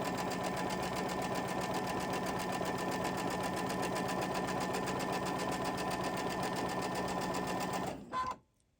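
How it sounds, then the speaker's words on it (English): A sewing machine stitches fabric in a quilting studio with a steady, fast mechanical whir for about eight seconds, then stops abruptly. "take it, back stitch it one time."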